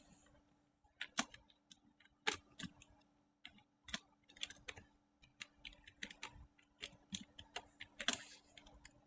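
Irregular clicking of keys on a computer keyboard as text is typed, quick bursts of keystrokes with brief pauses, close and fairly quiet, with no speech.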